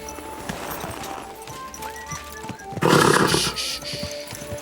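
Horse hooves clip-clop in a steady rhythm over ambience in the video game Kingdom Come: Deliverance II, followed by a loud rush of noise and a horse's snort.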